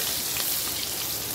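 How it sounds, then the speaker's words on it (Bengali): Fish frying in oil in a pan gives a steady, dense sizzle with constant crackle, close and even from start to finish, with no voices. "দেখো এখানে একটা মাছ ভাজা করে নিচ্ছি।"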